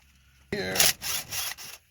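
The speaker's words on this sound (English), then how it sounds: "now some gentle prying action" A Powerglide transmission pan on a 1970 Chevy Camaro is pried loose, starting with a sudden loud metallic scrape and creak followed by two shorter grinding bursts, close up and alone.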